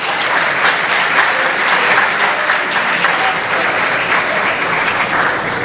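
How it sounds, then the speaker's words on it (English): Dinner event crowd gives a steady, full round of applause, even and unbroken throughout. "we can give them one more applause."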